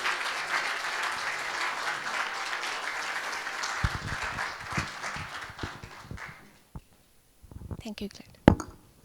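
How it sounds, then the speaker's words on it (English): Audience at the EVangelise '22 grand finale bursts into sustained applause for an incoming speaker, filling the room for about six seconds before thinning into scattered claps, taps and shuffling. "let's welcome her with a big round of applause"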